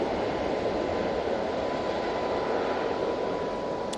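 Ryanair Boeing 737 MAX 8 jet departing Manchester Airport for Palma de Mallorca, a steady loud broadband engine roar that holds constant throughout with no talk.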